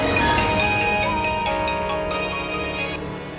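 A phone ringtone plays for an incoming call, a bright repeating electronic melody of short chiming notes lasting a few seconds, loud and close with a soft musical bed underneath and no voices.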